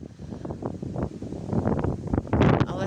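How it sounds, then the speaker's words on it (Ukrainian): Strong gusting wind outdoors during a storm on a rural homestead, buffeting the microphone in rough, swelling blasts that grow louder toward the end, with rustling mixed in. "Сьогодні вітер просто нереальний."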